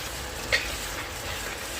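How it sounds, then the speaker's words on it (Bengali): Potatoes cooking in a pan sizzle steadily while red chili powder is stirred in, a continuous close frying hiss with one brief sharper scrape of the spoon against the pan. "লাল লঙ্কার গুঁড়োটা একটু নেড়ে চেড়ে নিচ্ছি"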